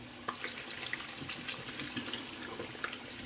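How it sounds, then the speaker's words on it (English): Hands being rinsed under a running tap, a steady close splash of water into a sink with small shifting spatters throughout. "Rinse my hands off."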